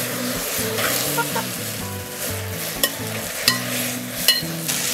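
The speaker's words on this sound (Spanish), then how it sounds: "Ya doró mi cebolla con mi escabeche. Ahora voy a agregar el guatacay." Onion and ají escabeche fry in a pot as huacatay goes in, a steady sizzle under stirring with a few sharp knocks of a spoon against the pot, no talking.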